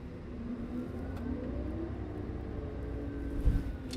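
Articulated dump truck driving on a work site, a steady low diesel engine drone with a faint shifting tone and a brief thump near the end, continuous and moderately close, no talk.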